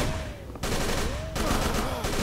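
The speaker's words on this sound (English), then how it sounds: "Who's shooting me?" Gunfire in the Call of Cthulhu video game, loud bursts of shots in clustered volleys, with brief lulls between and a voice speaking over them.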